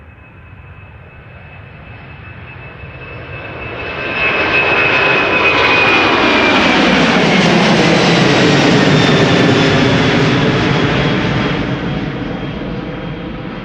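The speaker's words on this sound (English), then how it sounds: "a KLM 777-200 behind it," A KLM Boeing 777-200 jet departing Schiphol approaches with a high engine whine, swells into a loud, broad roar as it passes close by, then slowly begins to fade.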